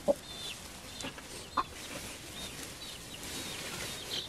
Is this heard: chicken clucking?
yes